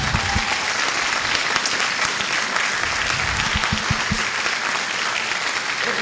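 An audience at a school band concert gives graduating seniors a steady round of applause, a continuous wash of clapping with a few louder close claps throughout.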